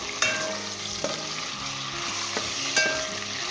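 Chicken pieces for a cabbage and chicken curry fry loudly in a pan, a steady close sizzle broken by several sharp scrapes and knocks of a spoon stirring against the metal, no voices.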